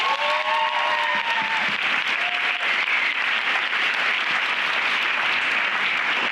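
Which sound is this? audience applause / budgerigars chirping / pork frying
audience applause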